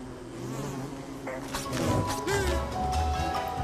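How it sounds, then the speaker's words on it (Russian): Bees buzz around the player in the survival video game Don't Starve, a steady insect drone with a few game sound effects and thuds layered over it. "Черт, пчелы, что вы тут делаете?"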